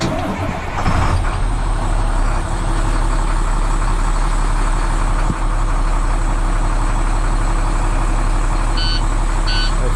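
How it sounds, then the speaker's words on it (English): An International snow plow truck engine turns over and settles into a steady low rumbling idle, loud and close, with a couple of short electronic beeps near the end and no talking. "I wonder if I start the truck."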